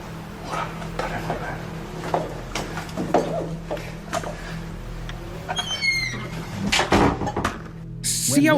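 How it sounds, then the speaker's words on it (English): A room door swings shut on its own in a quiet indoor space: a single dull thud stands out among scattered creaks, knocks and a low hum, with faint murmuring in the background. "The door to the room closes by itself."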